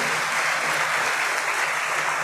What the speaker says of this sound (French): je vous demande d'applaudir les doyens, les doyennes, les vice-doyens et vice-doyennes